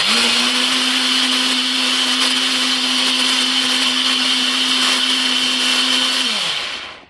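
A blender whirs steadily at high speed as pepper sauce ingredients are blended, a loud, constant motor drone close to the ear that winds down and stops at the end.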